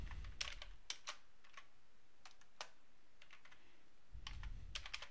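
Keys are pressed on a computer keyboard in scattered short bursts and single taps, close and crisp, with some faint low rumbling at the start and end and no talk.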